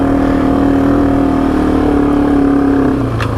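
A Yamaha TW200 dual sport motorcycle rides through mud, its single engine droning loud and steady up close before easing off near the end.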